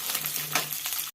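Green chilies, peanuts, chana dal, urad dal and cumin fry in oil for a chutney, making a brief close sizzle with a light stirring clink, then a short gap.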